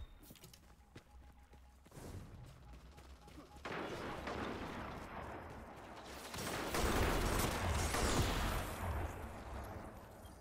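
Weapons fire in the video game Destiny 2 comes as dense, loud, continuous bursts layered over game noise, growing heavier toward the middle and staying intense to the end.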